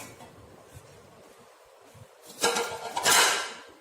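Whole raw mango pieces tumble into a steel wok while making mango murabba, a short burst of metallic clatter and rattling after a quiet moment, close and fairly loud.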